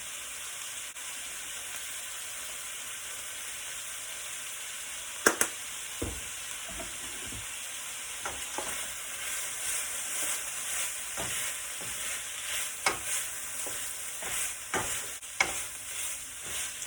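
Pepper steak frying in a pan, a steady moderate sizzle with scattered spatula taps and clicks, no talking.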